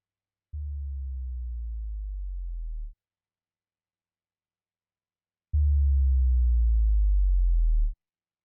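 Two deep synthesized bass sweeps, each sliding down in pitch and holding for a couple of seconds, separated by silence; the second is louder.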